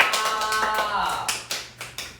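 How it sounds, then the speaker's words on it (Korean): A few people clapping indoors during a P1Harmony live broadcast, brief scattered claps in a short burst, with talking around them. "박수!"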